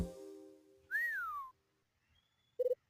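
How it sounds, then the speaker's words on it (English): Whistling from a hotel room in the Hotel Dusk video game, a single sliding whistled tone after fading musical notes, then a quick triple chirp, faint and sparse. "Somebody's whistling."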